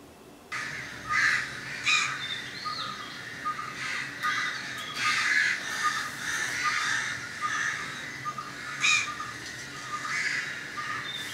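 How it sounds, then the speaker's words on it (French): Crows caw repeatedly, harsh and moderately distant, over a steady outdoor background hiss, with no voices. "j'ai commencé à enregistrer les oiseaux en fait"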